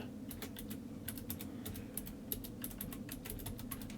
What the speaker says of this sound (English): And you'll need the administrative password,